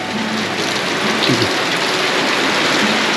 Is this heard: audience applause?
no